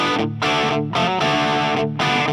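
Heavily distorted electric guitar played through a TC Electronic Ampworx JIMS 800 high-gain preamp pedal: thick, saturated chords struck in three bursts with short gaps of silence, loud and dry with no talking.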